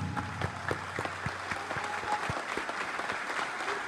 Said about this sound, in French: Je vous demande de l'applaudir très fortement